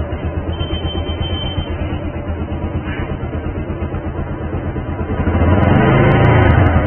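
A Bajaj Pulsar 150 motorcycle idles loud and close during a full service, then its engine is revved up toward the end to a stronger, steady drone.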